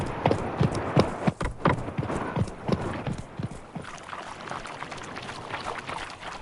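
A horse's hooves clip-clop in an uneven galloping rhythm in The Witcher 3: Wild Hunt, close and fairly quiet, thinning out into softer ambient noise toward the end.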